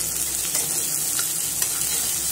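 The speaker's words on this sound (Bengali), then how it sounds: "তো একসঙ্গে ভাজি।" Boiled garlic cloves and green chilies frying together in a pan, giving a steady close hiss of sizzling oil with a few soft stirring scrapes and no talk.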